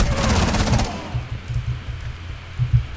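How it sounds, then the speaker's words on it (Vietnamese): Rapid gunfire in Rainbow Six Siege, shot through a wall, a loud automatic burst in the first second followed by scattered quieter shots and low thuds. "Đây, mình hơi bắn xuyên tường ngay chỗ này"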